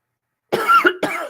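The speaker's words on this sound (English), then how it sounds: "I'm so sorry for coughing" Two quick coughs from one person, close and fairly loud, a short first bark followed by a second, with throat-clearing texture and silence before them.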